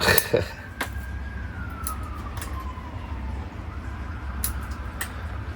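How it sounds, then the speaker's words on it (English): An ambulance siren wails faintly in the distance, a single drawn-out tone sliding slowly downward as it passes, with a few sharp clicks and some background noise over a garden setting. "That might be the ambulance anyway."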